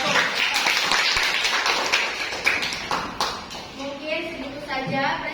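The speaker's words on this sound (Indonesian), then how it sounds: "kasih tepuk tangan dulu untuk kelompok satu" Classroom clapping for a student presentation group in an Indonesian teacher-training session, a scattered patter of hands with some voices over it.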